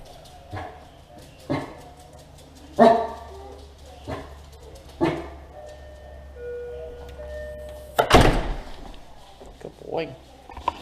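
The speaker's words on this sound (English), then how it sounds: "No barking." A dog at a front door barks and yips in short bursts with a few whimpers, spaced several seconds apart at close range, and one louder clatter near the end.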